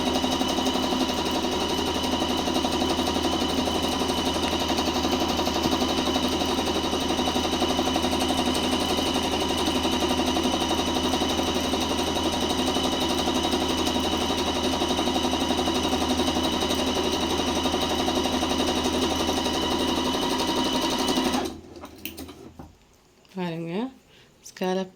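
A tabletop sewing machine stitching a scallop design runs in one continuous steady mechanical whir for about twenty seconds, then stops, leaving a short stretch of quieter handling noise.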